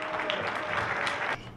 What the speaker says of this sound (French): Une main d'applaudissements pour l'artiste Robert-Pierre Monnier.